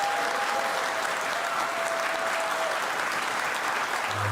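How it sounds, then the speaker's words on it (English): An audience applauds a new fire chief at a ceremony with steady, dense clapping that holds at an even level for several seconds, with a faint tone running briefly underneath. "Let's give our new fire chief a big round of applause."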